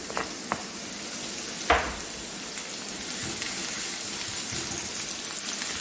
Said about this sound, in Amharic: ዘይቱን ጠበስ ጠበስ ታደርጋላችሁ